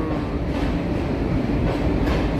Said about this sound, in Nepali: यहाँ आइपुग्यो अर्को ट्रेन